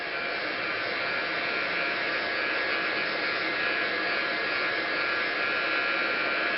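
An electric heat tool blows hot air over buckled collage pages to flatten bubbles, a continuous close fan-like whoosh and hum holding steady throughout.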